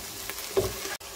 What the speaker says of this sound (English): So I've been cooking my onions for about 10 minutes now, just stirring it